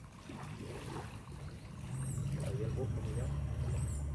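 Motorboat passing on the sea, a low droning engine that grows louder partway through, with waves washing in the background and people talking over it.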